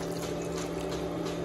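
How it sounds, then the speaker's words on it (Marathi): Water being poured into a pot of simmering chole (chickpea) gravy while cooking, a steady liquid pouring and bubbling sound heard close up and continuous, with no talking. "आपल्याला जरा अजून ग्रेव्ही पाहिजे म्हणून मी आता याच्यात टाकते जरासा पाणी."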